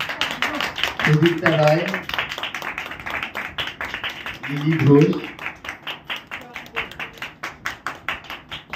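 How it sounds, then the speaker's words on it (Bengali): Applause at a certificate-giving ceremony for a theatre workshop, a fairly thin, steady round of clapping from a small group that swells and fades while a voice reads out names over it. "হাততালি কমে গেল"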